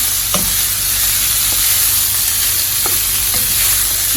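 Minced meat sizzles steadily in a pan with its own fat, a continuous frying hiss with a few faint scrapes of stirring, close and without talk.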